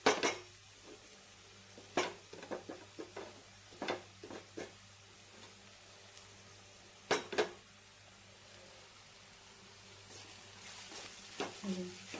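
A utensil scrapes and clinks against a pan while soaked puffed rice with turmeric is stirred over the heat, giving irregular sharp taps over a faint low hum, with a voice speaking quietly at times.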